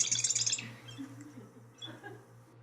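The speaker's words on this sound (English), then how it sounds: "So this little marsh wren, he's only a few inches long." A marsh wren's call played back from a recording in a tidal marsh on the Hudson: a quick burst of buzzy, rattling chatter followed by scattered fainter chirps over a low steady hum.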